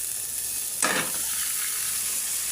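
Leftover Eid curry reheated in a pan, with a quiet background hiss and one brief burst of sizzle and scraping as it is stirred, then a soft steady simmer, no talking.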